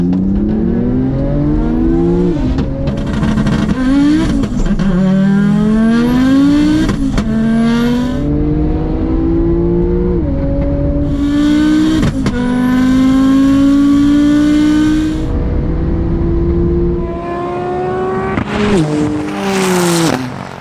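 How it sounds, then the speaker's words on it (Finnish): Tuned Audi S2 of about 800 hp and Porsche 911 Turbo S of about 630 hp accelerating in a drag race: loud, close engine roar rising in pitch through repeated gear changes, with brief breaks between shifts. No one speaks. "Audi ampasee viivalta kärkeen, mutta pykälänvaihdon kohdalla Porsche hiippailee ohi ja ottaa selkeän voiton kotiin"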